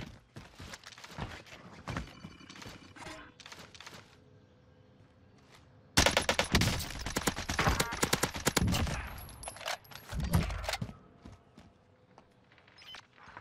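Gunfire in the Call of Duty Warzone Gulag: scattered shots and rapid bursts, quieter at first, then a loud, dense stretch of automatic fire with heavy thuds, close and busy throughout.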